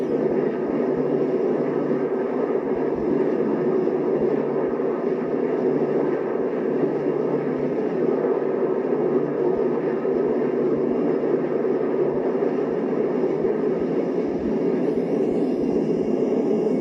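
A 1960s propeller aeroplane in flight, a loud, steady, droning engine roar that holds constant throughout with no speech over it.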